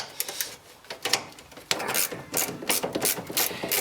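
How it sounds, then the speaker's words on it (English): Lower strut bolt on a Lotus Elan M100 rear suspension being undone with a 19mm socket and spanner: close, irregular ratcheting clicks and metallic scraping in short bursts, with no voices. "Then remove the lower bolt for the strut with a 19mm socket and spanner."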